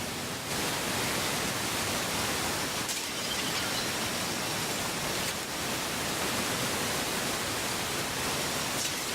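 In the video game Prey, a fountain sprays water with a loud, unbroken rushing hiss. The spray stays at full strength throughout, with no voices over it.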